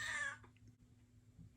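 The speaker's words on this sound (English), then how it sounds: "excuse my cat" A house cat gives a single short meow close by indoors, heard alone and followed by faint room hum.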